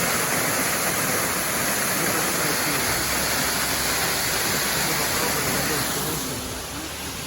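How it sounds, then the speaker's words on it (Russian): Waterfall at a Goa viewpoint, a loud, steady broadband roar of falling water that fills the whole clip and eases slightly near the end. "А вот и водопад"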